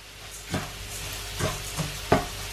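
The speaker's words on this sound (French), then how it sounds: "Donc maintenant je vais ajouter le riz" Rice tossed into a pan of frying onions for a risotto, with a quiet sizzle running underneath and three or four distinct stirring scrapes and knocks spaced across the span, the last one loudest.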